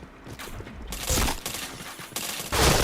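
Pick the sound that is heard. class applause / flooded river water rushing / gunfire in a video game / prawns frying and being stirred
gunfire in a video game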